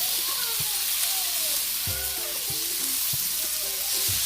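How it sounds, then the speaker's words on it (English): Shrimp fry in curry in a pan with a loud, steady sizzle, while a spoon scrapes and knocks against the pan now and then beneath it. "I'm just cooking them to allow the curry, the rawness to burn off from the curry."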